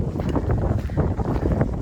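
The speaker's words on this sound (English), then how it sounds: "It is windy." Strong wind gusting outdoors on a roadside hike, a loud rumbling buffet right at the microphone, steady and uneven without pause.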